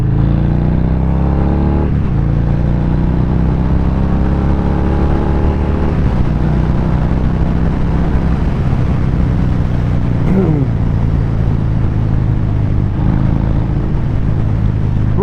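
A 2022 Harley-Davidson Fat Bob with its 1868 cc V-twin rumbles loudly up close, a deep steady throb with several rising revs that climb and fall back, continuous throughout.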